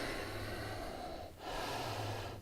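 Two long, close breaths during a yoga forward fold, a sustained airy exhale, a short pause, then another steady breath, quiet and alone.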